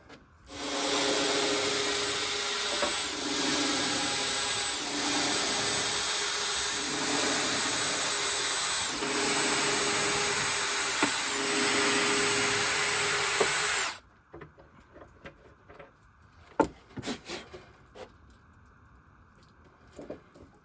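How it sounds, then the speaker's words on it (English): A power sander shapes the wooden front of a cooking prep table, giving a loud, steady, close whir for about fourteen seconds. It then cuts off, leaving a few faint knocks and handling sounds. "we're really gonna kind of shape it with the sander here"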